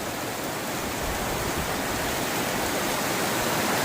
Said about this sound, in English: it's raining liters per minute, not millimeters